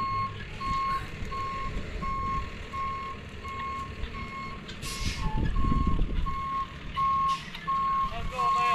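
A truck's reversing alarm beeps steadily in a regular outdoor rhythm, with a diesel engine rumbling underneath and brief noises and movement around it.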